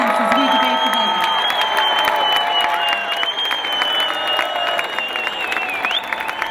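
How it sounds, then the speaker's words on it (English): An audience applauds Ohio Lieutenant Governor Mary Taylor in a sustained, loud burst of clapping and crowd noise that keeps going without a break. "Give her a round of applause."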